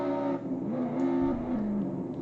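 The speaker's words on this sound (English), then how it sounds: "Man, this car is actually sick. It's so fast. Much faster than my Lamborghini." A fast car in the Roblox game Jailbreak, a steady engine drone that rises and shifts in pitch as it speeds along, heard alone without talk.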